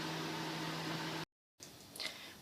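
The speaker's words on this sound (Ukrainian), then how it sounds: "Випікаю у мікрохвильовій печі приблизно десь 3-4 хвилини на самій меншій е, інтенсивності." A microwave oven running at its lowest power setting while baking a cheese casserole gives a steady, faint electrical hum, which cuts out abruptly into brief silence before quieter room noise resumes.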